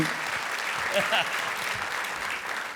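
Studio audience applause on a comedy show, a steady wash of clapping with a few cheers mixed in, heard under a host's voice.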